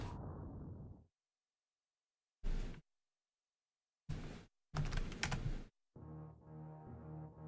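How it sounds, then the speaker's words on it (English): Computer keyboard typing in short bursts of keystrokes separated by silence, close and fairly loud, followed by a steadier humming tone at the end. "The typing noise is me typing GG enter."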